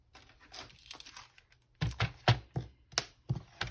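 Paper envelope being cut down for a junk journal, giving a run of sharp, close snips and crinkles that start softly and then come as loud, separate cuts at an uneven rhythm, with no talk.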